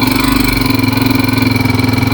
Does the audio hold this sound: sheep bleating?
no